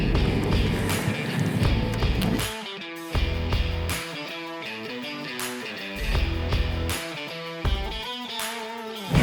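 A Corvette Z06 fitted with Lambo doors, driven on the road, its engine revving and pulling through gear changes in repeated surges with rising pitch, loud and close, with brief lulls between pulls.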